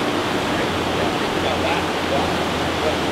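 Steady, loud roar of river water rushing through channels in Colombia, a dense broadband wash that holds constant without a break.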